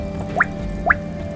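Aquarium filter and new air compressor bubbling water: regular single bubble pops or drips roughly every half second over a low steady hum, close and alone.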